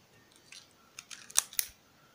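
A scratched Canon camera is handled up close. Faint soft rustles give way to a few sharp plastic clicks and taps near the end, and no one speaks.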